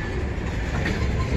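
An eastbound train rolls along the rails near Emmett, Michigan, a loud, steady, close rumble of wheels and cars with no break throughout.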